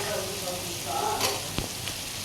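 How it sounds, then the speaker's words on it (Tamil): Ginger garlic paste with turmeric and homemade garam masala sautéing in a hot pan for millet semiya, a constant close sizzle with a few soft stirring scrapes. "போட்டு நல்லா வதக்கிங்க."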